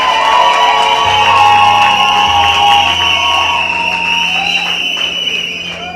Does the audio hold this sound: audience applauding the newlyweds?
yes